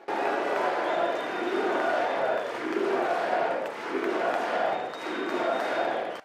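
A hall audience from both political parties cheers and applauds after the US Olympic hockey team is introduced during a speech, a dense, sustained roar of clapping and voices that swells and dips in waves.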